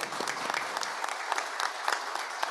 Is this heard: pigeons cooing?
no